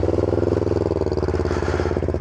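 Kawasaki Eliminator 500 motorcycle exhaust idling up close, a steady, rapid, evenly pulsing low burble that holds its rhythm throughout with no voices over it.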